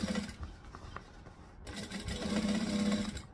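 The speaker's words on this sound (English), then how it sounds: "So I'm top stitching at 1/8 inch." Sewing machine top stitching a curved bag panel at 1/8 inch; a fast, close mechanical whirring in two bursts with a short break between, no talk.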